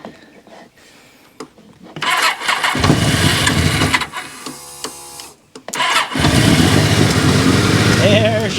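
An engine turns over with a rough rasping crank, catches, and roars up loud, dips briefly, then settles into a steady running rumble close by.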